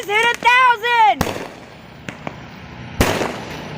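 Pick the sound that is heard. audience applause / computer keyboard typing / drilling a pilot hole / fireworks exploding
fireworks exploding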